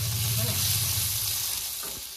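Bitter bhekuri tita leaves frying in a pan, a dense, loud hiss of oil crackling steadily close up, easing slightly toward the end.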